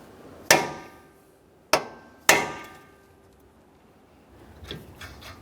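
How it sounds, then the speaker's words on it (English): Three sharp metallic hammer strikes on a punch staking an axle nut on a Toyota Sienna, ringing briefly after each, spaced unevenly, followed by faint handling noise. "We're going to use a hammer and punch and drive the nut into that area"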